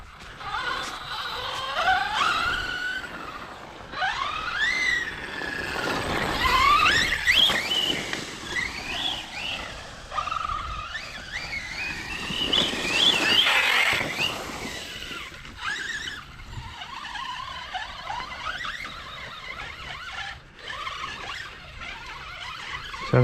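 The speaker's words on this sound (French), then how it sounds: "Tu vois les diffs comme ils patinent." A stock Yikong TB7 RC car squeals harshly as its differentials slip, high whining sweeps rising and falling in repeated bursts over a low motor buzz on slippery ground.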